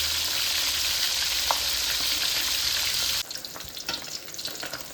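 Tilapia fish frying in hot oil gives a loud, continuous sizzle that drops to a lighter, crackling spatter partway through.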